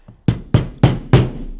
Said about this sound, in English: I'm going to use my trusty hammer that is not a hammer and my punch that is not a punch